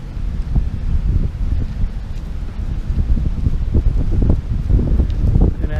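Wind buffets an outdoor microphone during a metal-detecting outing, a steady low rumble with gusty surges and rustling throughout, no talking.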